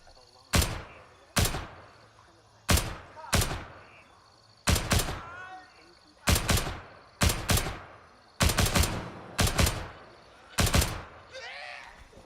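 Gunfire in the shooter Gray Zone Warfare: about a dozen sharp, loud shots and short bursts spaced irregularly, each followed by a brief decaying echo over a quiet background.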